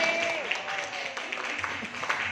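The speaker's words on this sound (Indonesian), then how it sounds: "Aplaus buat teman-teman" A seminar audience claps steadily in a brief, even burst of applause filling the room, with a voice faintly heard beneath.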